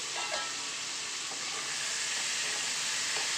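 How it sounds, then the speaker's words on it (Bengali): Small fish stirred in a hot pan with salt and turmeric, a steady bright sizzle and frying hiss with faint scraping of the stir, close and continuous. "এবার ভালো করে নাড়াচাড়া করে মিশিয়ে নেব।"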